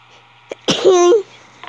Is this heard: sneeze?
yes